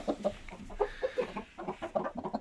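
A handsome one-year-old rooster clucks close by in a quick, uneven run of short, punchy clucks with no pauses longer than a moment.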